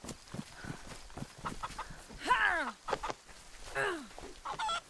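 Chicken in the DayZ video game clucking and squawking in several short bursts, fairly close, with scuffling movement and game noise around it, no talk.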